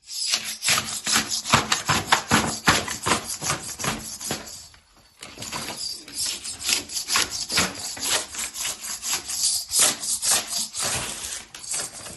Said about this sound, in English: sometimes a dry scrape is just as good as a wet one